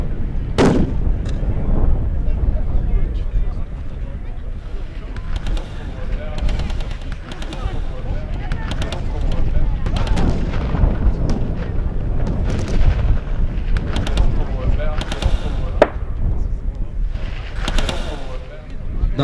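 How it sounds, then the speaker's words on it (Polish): A battle reenactment rings with repeated gunshots and heavy cannon fire, booming loudly and continuously for about twenty seconds amid rumble and crowd noise. "nagle gdzieś na zapleczu odzywają się pojedyncze wystrzały."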